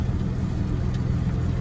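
A farm truck loaded with harvested canna bulbs drives back to the barn, its engine a steady mid-pitched rumble close by for a brief stretch with no voices over it.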